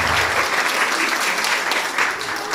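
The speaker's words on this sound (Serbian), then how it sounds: "Molim vas jedan aplauz." An audience at a children's language-games festival in Smederevska Palanka bursts into loud, dense applause that holds steady throughout, close and full.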